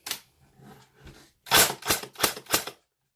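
An empty-magazine UAR airsoft replica powered by an 11.1 volt LiPo battery dry fires, giving a few soft mechanical clicks and then a fast burst of four sharp, close clacks.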